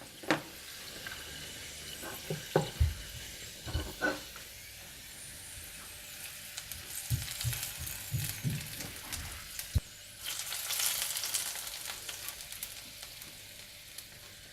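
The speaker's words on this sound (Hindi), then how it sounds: "इसके बाद ये तड़का आप दाल पर डाल दें।" Hot oil with tempering spices for dal sizzles quietly, with occasional clinks and knocks of utensils; the hiss swells louder near the end.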